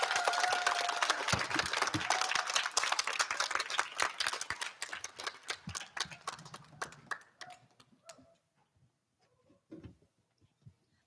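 Children at an elementary school assembly clap together in a brisk burst of applause that thins out into scattered, sparse claps and trails off to near silence.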